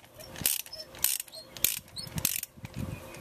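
A ratchet wrench turns counterclockwise to loosen a tight spark plug on a Toyota Tundra, giving four or five short bursts of clicking separated by brief pauses. The sound is close and moderately loud, with no talking.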